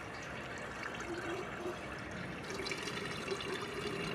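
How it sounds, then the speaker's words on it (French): A water tank being filled from a tap at a workplace, a steady, continuous rush and splash of running water throughout, moderately loud and close with no talking. "Et voilà, petit remplissage en eau."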